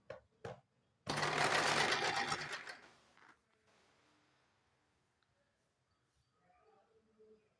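A sewing machine stitches piping strip along a blouse neckline in one loud continuous run of about two seconds, preceded by a few short clicks and followed by faint quiet handling.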